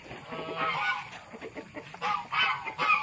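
Ducks and geese at a home pen where water is being added for them to bathe give repeated nasal honks and clucking calls, fairly close and overlapping, with no talking.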